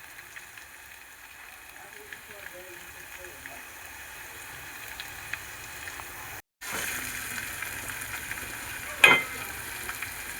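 Onion and tomato cooking in a pan produce a soft, steady sizzle with faint bubbling and a sharp clink near the end, quiet and continuous under a low hiss.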